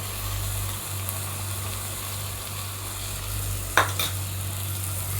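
Green chilli and mint paste fries in a pan for mint rice, giving a steady, moderate sizzle and hiss over a low hum, with a couple of brief scrapes of stirring near the end.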